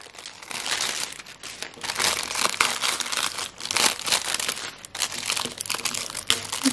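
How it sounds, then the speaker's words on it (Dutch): Plastic wrap crinkles and crackles continuously as it is pulled and peeled away from an Easter flower arrangement, close up and fairly loud, with no speech. "Dan haal ik tussendoor even het plastic eromheen af."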